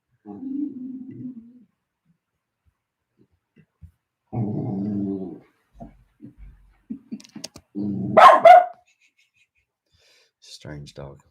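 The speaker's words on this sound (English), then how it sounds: "What's he growling at?" A dog growls low in a few separate bursts and gives a short, sharp bark-like yelp, picked up indoors at moderate distance with quiet gaps and small clicks between.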